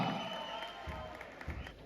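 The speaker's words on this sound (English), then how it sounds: "Let us welcome her on the stage with a big round of applause" An audience at a corporate rewards and recognition show applauds to welcome a performer onto the stage, steady moderate clapping from a crowd spread across a hall, with no voices over it.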